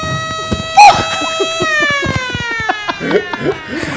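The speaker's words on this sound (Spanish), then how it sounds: "Poneme la sirena porque es el último." A siren sound effect with steady stacked tones that hold across the clip, starting with a sharp loud burst, as scattered clattering and knocking sounds continue underneath.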